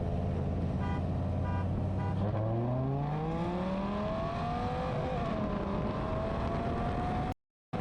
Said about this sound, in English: we're going to start with a roll race that goes from 20 to about 140 miles per hour